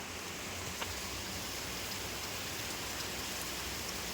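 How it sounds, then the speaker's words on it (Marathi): Heavy rain pours down steadily, a dense continuous patter without pauses and no voices. "खूप जोरात पाऊस चालू आहे"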